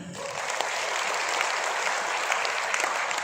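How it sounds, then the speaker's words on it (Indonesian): An audience at a health talk applauds steadily, a dense wash of clapping that holds at an even level for a few seconds without pause. "Boleh tepuk tangannya."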